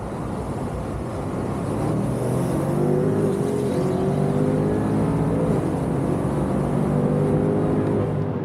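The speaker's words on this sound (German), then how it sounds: "Mal gucken, ob der im dritten Gang noch durchdreht." BMW M5 CS tuned by G-Power to 800 PS accelerating hard in third gear, the engine note climbing steadily in pitch through a long pull, loud and close, with no talking.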